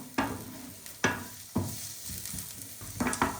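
Chopped onion sizzling in hot oil in a pan, with a steady fry hiss broken by several sharp bursts as a utensil stirs and scrapes, close and fairly quiet.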